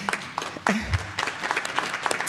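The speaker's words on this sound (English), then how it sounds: "I think that deserves a round of applause" A school board meeting audience gives a round of applause for the competition teams, a brief, sparse and fairly soft patter of clapping with a few murmurs and bumps in the room.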